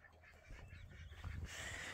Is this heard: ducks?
yes